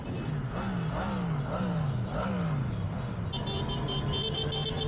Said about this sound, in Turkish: Çok güzel motor.